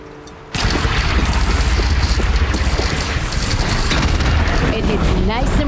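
A cannon fires in the Horizon Zero Dawn video game with a sudden loud blast at the start, followed by a sustained, heavy roar and rumble of gunfire and explosions.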